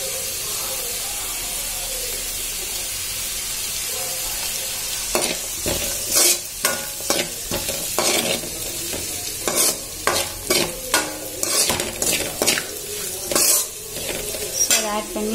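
Vegetables for veg noodles sizzle steadily in a hot pan, then a spatula stirs and tosses them in quick, repeated scraping bursts over the continuous frying hiss, close up.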